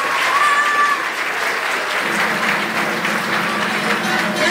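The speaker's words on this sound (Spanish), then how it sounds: "fuerte los aplausos." An audience claps steadily through a traditional Pochutla dance and devils' dance performance, a dense, loud, even wash of many hands without pause.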